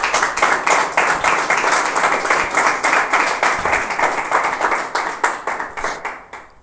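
Congregation applauding in a church service during a sermon, a steady, loud stretch of dense clapping that tapers slightly toward the end, with no talk over it.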